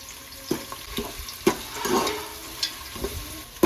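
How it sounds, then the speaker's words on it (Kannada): Sliced onions and green chillies frying in a pan for chicken biryani, a soft sizzle broken by several distinct scraping stirs spaced through the clip, fairly quiet and close. "ಇವಾಗ ಒಂದು ಸ್ವಲ್ಪ ಹೊತ್ತು ಈರುಳ್ಳಿ ಬ್ರೌನ್ ಕಲರ್ ಆಗೋವರೆಗೂ ನಾನು ಇದನ್ನ ಫ್ರೈ ಮಾಡ್ಕೊಳ್ತೀನಿ"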